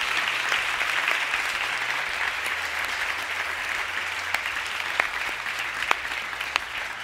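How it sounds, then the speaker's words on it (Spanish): Sustained applause from a crowd at a meet-and-greet with Marc Márquez, steady dense clapping throughout with a few sharper claps standing out, no voices on top. "Un aplauso."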